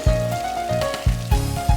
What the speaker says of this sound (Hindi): बादल आए हैं, बारिश लाए हैं।